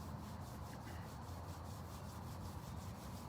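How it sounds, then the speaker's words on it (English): Palms rubbing together during an outdoor yoga class, a soft steady brushing friction that continues evenly and faintly for a few seconds with no talking. "Rub your palms together."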